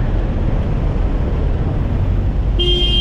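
Dense heavy traffic on Colonel Bonny Serrano Avenue during road widening works, a steady loud roar of engines, with a single horn beeping near the end.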